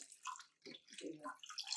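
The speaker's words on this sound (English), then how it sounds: "So I brought a little bit of extra water just to make sure that we're covering up the eggs." Water poured into a pot holding eggs, adding enough to cover them: splashing and gurgling in irregular bursts, close and fairly clear, with no talking over it.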